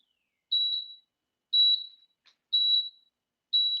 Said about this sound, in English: I'm going to give myself a 10-second countdown here on my timer.